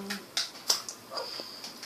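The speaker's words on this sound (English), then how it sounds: "We have new dogs, war dogs." Dogs in a video game, new war dogs, give a few short, soft yips and whimpers, scattered and faint against a quiet background.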